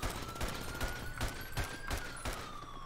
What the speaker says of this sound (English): Shots fired at the police station.